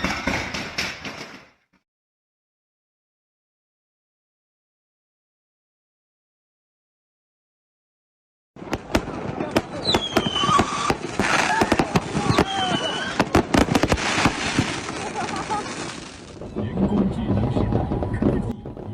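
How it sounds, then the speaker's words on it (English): Fireworks set off indoors: a short noisy burst, several seconds of near silence, then dense, rapid crackling and banging explosions with voices mixed in, loud and close. "A man lights fireworks indoors."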